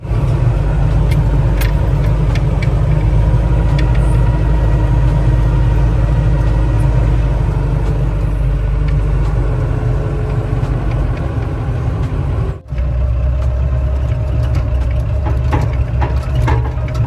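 A trailer truck engine idles and rumbles in a heavy low drone while backing up on a dairy farm, with clanks and rattles scattered over it and a brief cut near the end.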